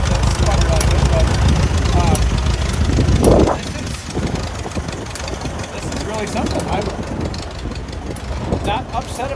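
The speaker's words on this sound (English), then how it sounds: "Carburetor needs a little adjustment. It'll take some of the sputter out of it" The engine of a Massey Ferguson 2200 forklift, whose carburetor needs adjustment, idles with a rough, uneven, sputtering rumble that runs throughout, with someone talking over it.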